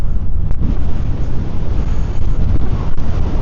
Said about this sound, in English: The wind has got up a little bit though